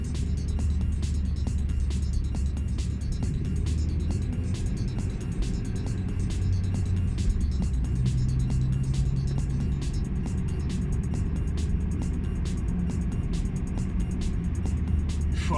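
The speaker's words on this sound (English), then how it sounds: "So much traffic." Road traffic passing a Honda Civic on a rainy, windy day, heard from inside the car; a steady low rumble of engines and tyres runs throughout, with rhythmic ticking, likely wipers or an indicator, on top.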